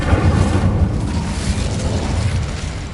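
In the Hogwarts Legacy video game, an Incendio fire spell erupts in a loud, close whooshing burst of flame that rumbles with a deep low roar and tapers off over a few seconds.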